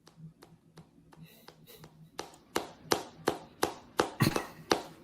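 A series of sharp hand claps, starting soft and scattered, then growing louder and more regular toward the end, each a crisp slap standing alone with no talking.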